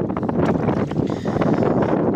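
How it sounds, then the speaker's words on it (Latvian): Strong wind gusts over a lake during a fishing trip, buffeting the microphone in a loud, continuous rumbling roar with surging pulses and no pause. "kā var uznākt vienā brīdī pūtiens un neapstāties vispār vairāk"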